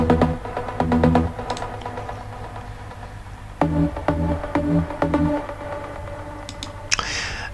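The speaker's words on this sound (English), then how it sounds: "The main pluck comes from Spire rigging and sounds like this." A detuned trance pluck synth from Spire with delay and reverb plays short rhythmic bursts of notes that echo and fade, then returns after a pause, moderately loud and without any talking.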